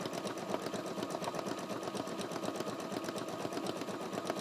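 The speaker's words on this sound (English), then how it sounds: "embroider them right out in your hoop" A Bernina embroidery machine stitches a design in the hoop, its needle running in a fast, even, continuous rhythm that stays steady and close throughout with no talking.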